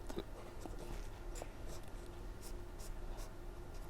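Chalk or marker writing a chemical formula on a board, a few short scratchy strokes close by, faint over low room hum.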